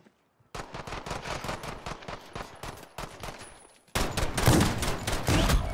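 Rapid bursts of automatic gunfire in a Call of Duty Modern Warfare 2v2 match, a rattling string of shots followed after a brief dip by a louder, denser volley.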